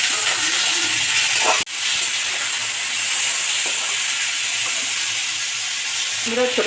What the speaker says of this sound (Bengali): এর মধ্যে আনারসগুলো দিয়ে দেব।